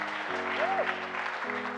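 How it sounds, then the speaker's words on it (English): A congregation claps for a newly consecrated bishop at a church service, a soft, even patter of applause with a sustained organ-like tone and a brief voice over it. "Can you clap for him?"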